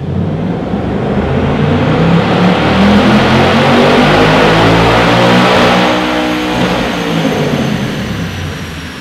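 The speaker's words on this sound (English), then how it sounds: "we ran our 2024 GT A10 car on the dyno" A 2024 Ford Mustang GT with a 10-speed automatic roars loudly on a dyno during a sustained pull, the engine note climbing steadily and then easing off toward the end.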